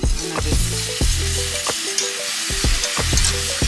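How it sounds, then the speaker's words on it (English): A roux of melted butter and flour sizzles loudly in a pan while being whisked, a steady close frying hiss with rhythmic scraping strokes of the whisk against the pan, and no voices. "whisk that around for 2 or 3 minutes"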